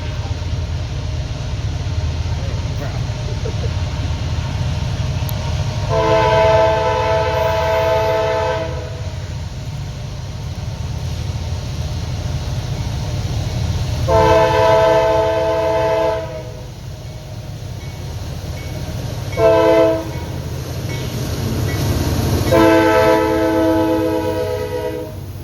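A train led by a KCS Ace locomotive sounds its horn in four blasts, two long, one short, then another long, over the steady rumble of the passing train nearby.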